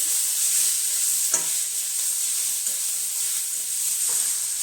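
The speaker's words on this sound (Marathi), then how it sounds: "आता हे टॅमॅटो आपण छान असे नरम होईपर्यंत परतून घेऊया" Chopped tomatoes for an egg curry sauté in a pan with a steady, bright sizzle throughout, broken by a few soft stirring scrapes, close by and with no talking.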